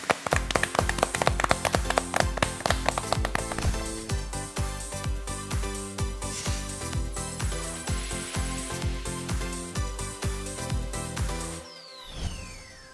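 Studio audience applause welcoming a professor's real estate public law lecture, starting as sharp, dense hand claps and settling into a steady sustained patter before fading out near the end.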